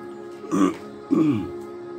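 Two short, rough throat clearings a moment apart, close and fairly quiet, with nothing else around them.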